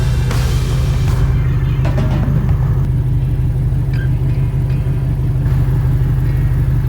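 A Jeep on new fat tires in snow, giving a deep, loud, steady engine rumble up close that goes on throughout with faint scrapes and clatter on top.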